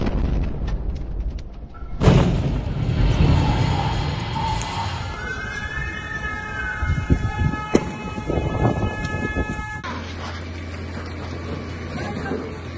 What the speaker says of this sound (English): Air raid sirens across the country sounded warnings to seek cover